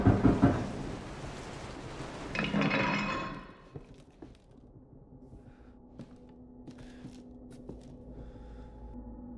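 Rain and thunder from the video game Resident Evil 7: a loud rumbling thunder burst and heavy rain at the start, a second swell near three seconds, then fading to quiet ambience with faint clinks.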